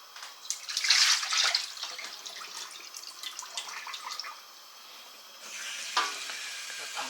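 Water splashes and hisses in a pan being rinsed, loudest at first, then settling into a softer trickle with a fresh gush near the end.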